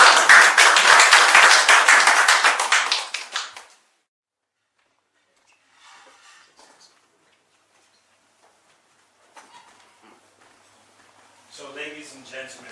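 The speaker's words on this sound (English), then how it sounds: "A round of applause for" Loud, dense applause from an audience at a sponsors' gala night for the NBBF, close and sustained for several seconds before cutting off into near silence, followed by faint scattered sounds and a voice toward the end.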